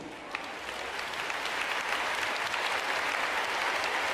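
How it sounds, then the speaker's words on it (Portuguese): An audience at a spoken talk breaks into steady, dense applause that fills the whole stretch at an even, sustained level, with no voices over it. "Uma salva de palmas a São Jerônimo."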